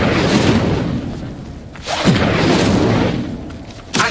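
The Incendio fire spell is cast in a Harry Potter video game. Loud, rumbling whooshes of flame swell and fade, with sharper bursts flaring about halfway through and again near the end.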